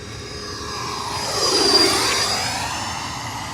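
An FMS 80mm Rafale RC jet with an electric ducted fan makes a low pass. Its whine rises as it nears and drops in pitch as it sweeps by and fades, with no voices.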